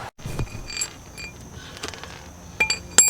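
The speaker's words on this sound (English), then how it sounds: "Like, come on this side and like jack it up from the center support." A car jack works under a car at its center support, producing scattered metallic clinks, creaks and ratcheting clicks in irregular bursts between quieter gaps. The sharpest knocks come near the end, with no talking.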